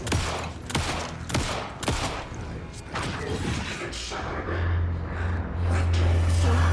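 Rapid bursts of video game gunfire in Alan Wake 2 crack in quick succession, loud and close, followed by a low rumbling hum and scattered impacts.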